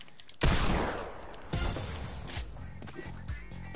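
Gunfire in the Fortnite video game, a loud burst of shots followed by further cracks and rumbling bangs, dense and close.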